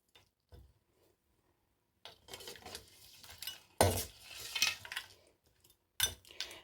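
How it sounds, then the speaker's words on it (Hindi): Garam masala and chopped fresh coriander are stirred into a khagga fish curry in a pan, with scattered spoon scrapes and clinks against the pot, quiet at first and then in bursts. "अच्छे से दोनों चीज़ों को हम मिक्स कर देंगे।"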